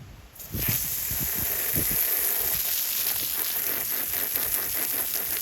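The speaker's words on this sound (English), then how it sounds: "I'll do one more spray and then we'll dunk it" Water from a hose sprays over a Kyocera DuraForce XD rugged phone, giving a constant broad, close hiss that starts almost at once and holds steady throughout.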